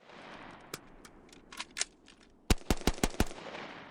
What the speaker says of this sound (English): At that point, go into doing a speed reload.